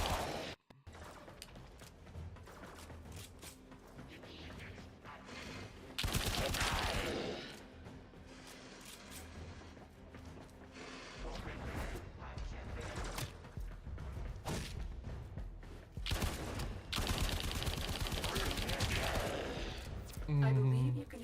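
Gunfire and weapon mechanisms in Warframe clatter through a busy, dense mix of bursts, clanks and crashes, with game music and a voice talking underneath at times.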